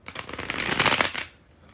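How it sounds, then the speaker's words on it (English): A deck of cards gets a bridge shuffle: a close, crisp riffle of about a second builds to a dense flutter, then cuts off into near silence. "I'm about to do the bridge shuffle"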